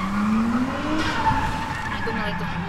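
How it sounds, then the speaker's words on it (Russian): Green Nissan Cefiro with an RB25 engine drifting on a wet street, its engine roaring and tires hissing through water, with a blow-off valve whoosh amid continuous loud car noise. "Классный звук блоуфа. Явно РБ-25."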